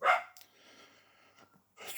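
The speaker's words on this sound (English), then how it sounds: "There's my dog Rukia, named after an anime character" A pet dog indoors in a messy house gives a short, sharp bark or huff at the start, then faint breathing and rustling, ending with another brief bark-like burst.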